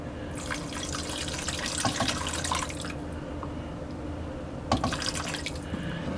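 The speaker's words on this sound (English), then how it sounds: "I'm gonna go ahead and add 1 more cup of stock" Stock is poured into a pot of thick cream of asparagus soup in a close, splashy liquid stream lasting about two seconds, then a brief second pour after a quiet pause.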